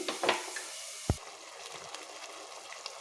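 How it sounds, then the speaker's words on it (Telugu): Tomato pieces hit hot oil in a pan with onion and green chilli, giving a soft, steady fry sizzle with a few light clatters and one sharp knock near the middle; no speech. "ఈ టమాటా ముక్కలు ఫ్రై అవ్వాలి"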